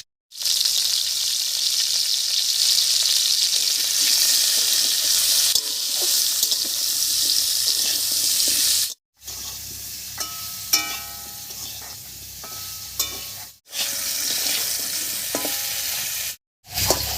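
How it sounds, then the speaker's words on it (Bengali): Drumsticks (moringa pods) frying in oil for a Bengali ghonto, a steady close sizzle with stirring scrapes, broken by a few abrupt cuts to silence. "ডাটাটা ভাজা হয়ে গেছে এবার নামিয়ে নিচ্ছি"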